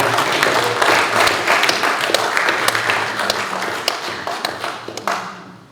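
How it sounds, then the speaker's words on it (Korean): A church congregation at a Korean Christian council's officer installation service claps in praise to God, a dense burst of many hands with sharp individual claps standing out, gradually thinning and fading near the end. "하나님께 영광 돌리는 박수 한번 다시 한번"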